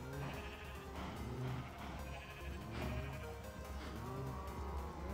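Sheep bleat repeatedly in Minecraft, several overlapping calls rising over a steady ambient game background, fairly close and continuous throughout.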